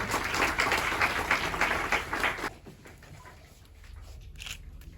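Audience clapping at a Disability Day felicitation and certificate ceremony at an eye institute, dense and steady for a couple of seconds before cutting off to a quiet room.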